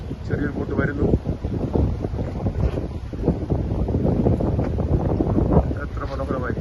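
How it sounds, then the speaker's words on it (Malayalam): A small boat arrives from another island at the jetty in Malé, Maldives. A low engine rumble mixes with gusty wind buffeting the microphone, loud and continuous. "വേറൊരു ദ്വീപിൽ നിന്ന് ചെറിയൊരു ബോട്ട് വരുന്നു."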